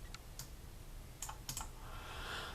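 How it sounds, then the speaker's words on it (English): A handful of separate button presses on a graphing calculator make sparse, faint clicks with short gaps between them, set against quiet room noise. "So we type in, hit our y equals button and we clear it."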